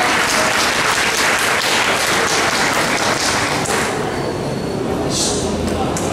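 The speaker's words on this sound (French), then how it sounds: "Applaudissez-les s'il vous plaît" Steady, dense applause from a large crowd fills the whole stretch, loud and continuous with no pauses.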